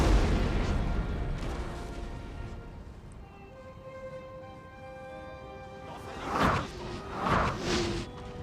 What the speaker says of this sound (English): Let's get those cannons to concentrate fire on them